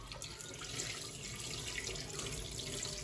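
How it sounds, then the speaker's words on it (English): Lentils are washed under a steady stream of running tap water, a continuous close hiss and splash of water into a sink with no talk. "So I'm going ahead to wash my lentils"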